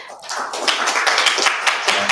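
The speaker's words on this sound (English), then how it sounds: "I can hear all this applause." Audience applause at a live storytelling event, a steady patter of many hands clapping with sharp individual claps standing out, loud and near, no speech over it.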